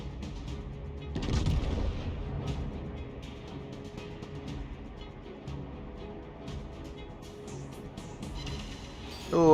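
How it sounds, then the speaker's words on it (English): Naval guns fire in a World of Warships battle, heavy booms and rumbling impacts repeating over a steady game soundscape, with a sharper blast near the end. "Try and get some fire on him actually."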